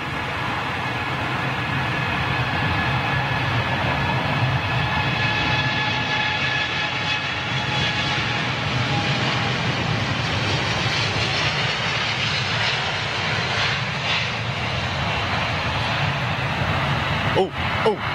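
A Boeing Dreamliner jet roars steadily as it departs London Heathrow, a loud continuous engine rumble and whine heard from a distance, with brief handling noise near the end.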